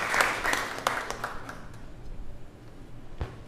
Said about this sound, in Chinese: 安尼咱搁一摆鼓掌